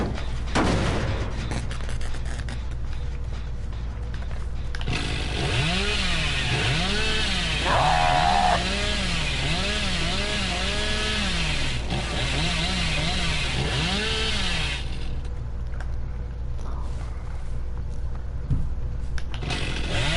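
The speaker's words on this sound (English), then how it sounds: "I need a chainsaw again, Magic." A video-game chainsaw revs and runs continuously for about ten seconds, a loud buzzing engine drone with rhythmic pulsing swells, set against heavy background game noise and clattering effects.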